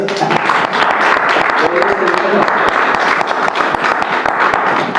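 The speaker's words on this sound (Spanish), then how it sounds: "Dale un aplauso a Dios." A church congregation breaks into loud, sustained applause, sharp individual claps crackling within a dense crowd wash, with voices faintly mixed underneath.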